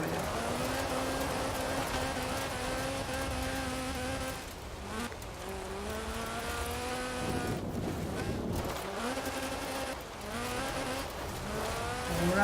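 Lotus Sunbeam rear-wheel-drive rally car racing in Forza Horizon 4, a steady loud engine whine rising and falling through repeated gear changes, with brief dips as the car shifts and slides, heard close and continuous.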